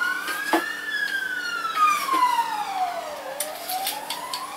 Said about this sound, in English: Something's going down because that's two police cars I can hear.